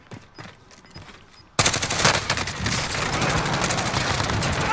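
Gunfire in Call of Duty Warzone erupts suddenly after a quiet moment, loud rapid automatic bursts that continue densely to the end, close and sustained.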